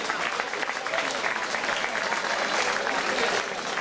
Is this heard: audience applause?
yes